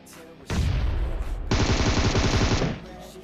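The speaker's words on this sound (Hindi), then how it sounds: "लेकिन पिंग इतनी आई थी कि फायरिंग भी नहीं रुक रही थी" Automatic gunfire from the PUBG Mobile video game in two loud, dense, rapid bursts, the first about a second long and the second slightly longer, with nothing else heard over them.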